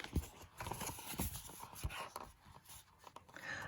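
A pony's hooves clip-clop in an uneven, fairly close series of hollow knocks, with no voices over them.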